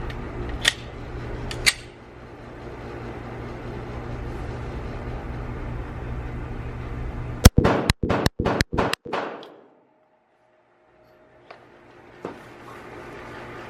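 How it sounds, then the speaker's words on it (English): Glock 42 pistol fired in a rapid rhythm drill: six sharp, loud shots in quick succession, each cracking over a low background hum, followed by silence and a couple of faint distant bangs. "Now I'm gonna do some faster, I'm gonna do a rhythm fire drill."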